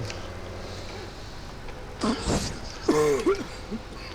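A single sneeze bursts out abruptly midway, short and sharp, followed by a brief vocal sound, set against a quiet room background during a Farming Simulator 17 live stream.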